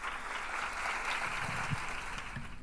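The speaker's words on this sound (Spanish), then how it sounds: "y lo recibimos con un aplauso" An audience at a congressional forum on women in parliament applauds warmly, a steady, even wash of clapping heard up close for the whole span without talk.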